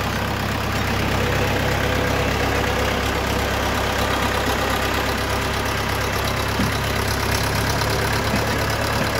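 40-horsepower Orion RF404 tractor engine idling, a steady, dense diesel drone with a constant low rumble and even loudness for nine seconds, close by and with no talking.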